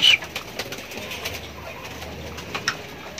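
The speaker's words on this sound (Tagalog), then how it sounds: "Pinapasyalan na tayo ng mga gandang ibon." Ringed racing pigeons coo softly outdoors, with a brief wing flap at the start and a few faint calls spread over a quiet background.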